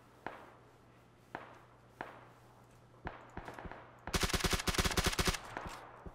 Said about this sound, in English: Somebody else was shooting at him.